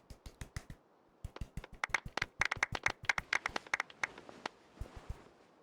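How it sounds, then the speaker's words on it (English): Applause fills a Genshin Impact award ceremony: a quick run of sharp claps that builds into a dense, bright round, then thins to scattered final claps. "Let's give our champion Kaveh one last big round of applause."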